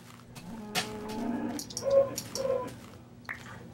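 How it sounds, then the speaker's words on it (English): A cow in the video game Minecraft gives a few drawn-out moos, fairly close, against a quiet background. "Oh, there's a cow."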